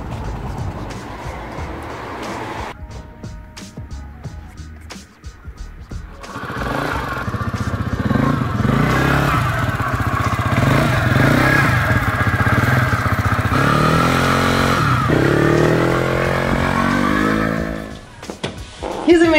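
A Honda Zoomer scooter fitted with a new TK aftermarket exhaust runs on a test ride, its small engine droning steadily and loudly, swelling through the middle with a few speech-like sounds at the edges.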